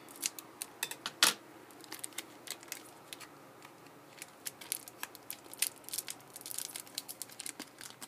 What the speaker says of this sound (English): I think I need scissors to help me out again.